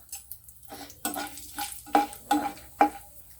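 Whole spices sizzle in hot oil in a pan for tomato rice: fennel seeds first, then cloves, cinnamon, marathi moggu and star anise. Soft crackling frying runs under repeated stirring scrapes that strike at a regular pace.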